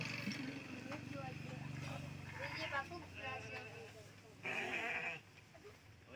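Goats bleating at a cattle-feeding spot, several wavering calls in a row mixed with other livestock sounds while people talk over them.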